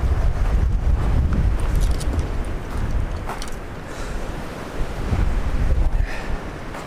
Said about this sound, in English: these like 25-mile-an-hour winds are super cold